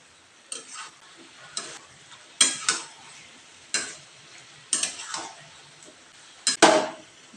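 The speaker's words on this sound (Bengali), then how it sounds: "মাংসটা নিয়ে দিয়ে কষাতে থাকবো।" Meat being slow-fried and stirred in a pan for a Bengali kosha mangsho: irregular bursts of spatula scraping and clatter, each a second or two long, with gaps between and only a faint sizzle.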